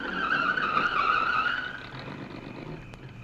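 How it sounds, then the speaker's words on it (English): A car approaches in an old-time radio detective drama, its engine a steady, fairly loud hum with faint tyre noise that eases slightly toward the end, with no voices. "answer to that's in the car now approaching"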